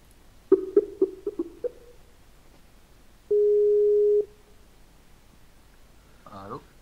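Phone call tones in the video game Utopik: a quick series of five or six short beeps, then a single steady tone lasting about a second, followed by a brief warbling chirp, all clear against near silence.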